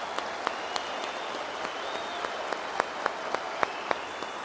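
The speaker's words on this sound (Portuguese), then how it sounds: "Uma salva de palmas para esse herói" An audience claps at a live class honoring Ayrton Senna, an even wash of applause at moderate level with a few sharper individual claps standing out.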